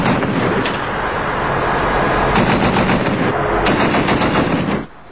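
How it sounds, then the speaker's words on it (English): Two M240 machine guns and a .50 caliber gun fire at night from a base near the Pakistan border, a loud continuous roar of overlapping bursts that carries on for several seconds and then stops abruptly. "Using 2 .240 machine guns and a .50 caliber, these soldiers lit up the night with tracer rounds"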